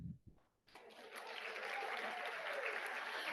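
An audience at the 25th Brain Health Forum at Emory University breaks into applause after a brief quiet voice, and the clapping swells into a steady, sustained wash that carries to the end.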